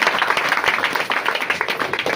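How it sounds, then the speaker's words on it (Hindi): Loud, dense clapping from a church congregation, a steady rapid patter of many hands that keeps going without a break and with no voices over it. "जोरदार ताली बजा के"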